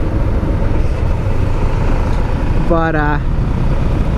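A 1991 Kawasaki EX500 Ninja motorcycle being ridden, its engine droning steadily and loudly throughout with constant road and wind noise, and a person briefly speaking near the end.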